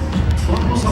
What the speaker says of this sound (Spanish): A ver, que se escuchen nuevamente esos aplausos.